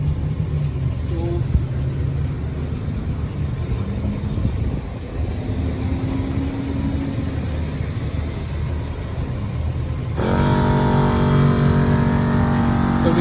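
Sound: Iron Man Air Champ air compressor running

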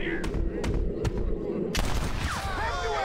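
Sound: gunshots shooting a thrown hat in Red Dead Redemption video game

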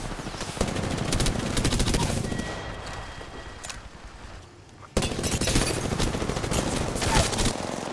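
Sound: gunfire being taken in a video game

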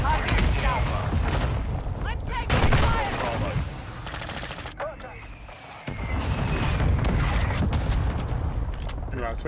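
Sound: mortar strike explosions in Call of Duty 4 video game

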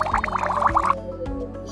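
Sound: bubbles rising in water

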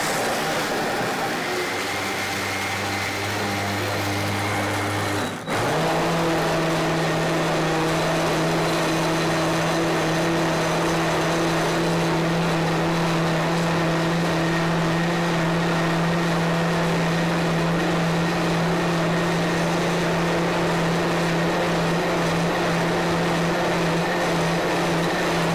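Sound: blender blending sprouted hemp seed milk with pears

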